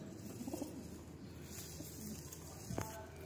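Pigeons held in hand coo softly in low repeated murmurs, with a louder burst of cooing near the end, against steady outdoor background noise and no talking.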